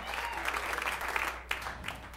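Audience applauding at a stand-up comedy show, a dense wash of clapping from the crowd that continues steadily with a few voices mixed in.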